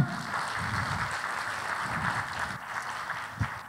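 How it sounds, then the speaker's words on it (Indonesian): Applause from a small audience at a talk about the Srimulat comedy troupe, a steady patter of clapping that continues for several seconds before tapering slightly. "Mohon tepuk tangannya dong teman-teman."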